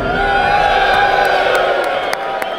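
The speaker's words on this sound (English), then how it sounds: "Let's hear a cheer for red." A large live audience at a Get in the Ring event in the Netherlands cheers loudly for the red side, a dense wall of shouts, whoops and hollers sustained throughout, with a few sharp accents near the end.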